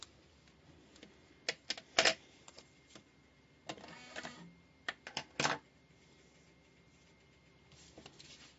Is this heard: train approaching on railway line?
no